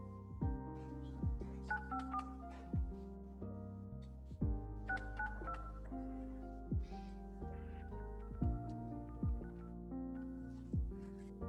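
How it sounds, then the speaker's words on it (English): A telephone being dialed to call a lawyer, a steady sequence of distinct tonal beeps and key presses in a quiet room, with no talking over it. "I'm going to try and call your lawyer right now, see if I can get him on the phone"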